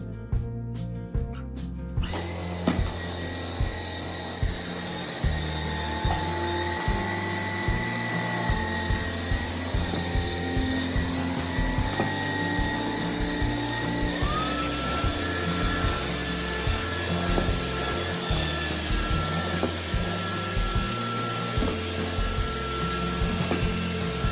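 Cecotec Rockstar 300 X-treme Ergoflex cordless vacuum running over a floor on a second pass, a steady high motor whine with repeated rhythmic bumps and clicks as the brush head moves back and forth.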